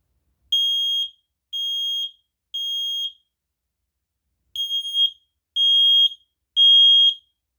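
A smoke alarm sounds during a building system test, giving three loud, shrill beeps, a short pause, then three more in the same steady pattern, with no talking.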